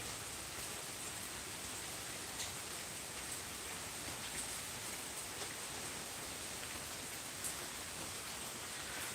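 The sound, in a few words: rain falling during summer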